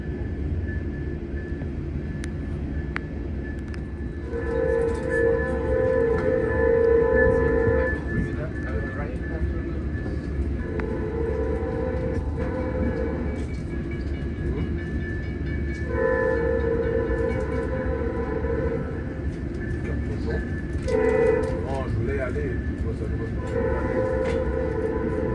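A VIA Rail passenger train heard from inside the car as it arrives at a station, with a steady rolling rumble, a sustained horn tone sounding in several long blasts, and people talking nearby.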